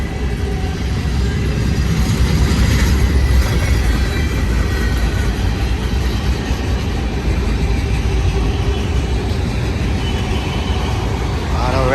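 A Union Pacific manifest freight train with open boxcars and empty autoracks climbs past at Cajon Summit, its loud, continuous rumble and wheel noise filling the scene from close by as a voice talks over it.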